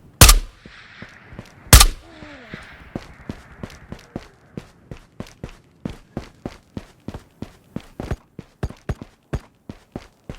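Gunfire in the video game Ghosts of Tabor: two loud close shots open, then a long run of sharp single reports in a steady, slightly uneven rhythm, each crisp and punchy, with no talk over them.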